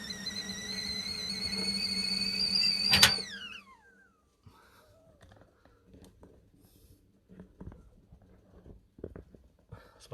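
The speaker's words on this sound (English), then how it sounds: "Lovely whistling kettle." A whistling kettle on the boil, its shrill, steady whistle ringing loud and close for about three seconds before the pitch slides down and dies away, leaving quiet scattered clatter and handling noises.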